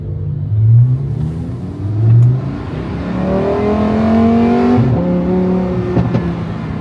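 Lamborghini Huracan STO supercar engine revving up through rising gear pulls, loud and close, with a sharp shift near the end and no talking.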